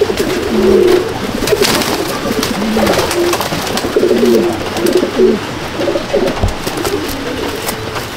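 A female pigeon coos in a pigeon loft, soft repeated rolling calls over a steady background of other birds close by, with a low thump near the end.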